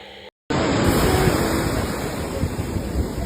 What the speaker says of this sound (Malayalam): എത്ര ശാന്തമായ കടൽ.